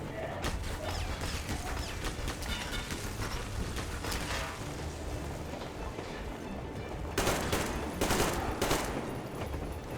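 Dense, continuous gunfire from Metro Exodus, a sustained fusillade of rapid shots with heavier bursts near the end, loud and unbroken throughout.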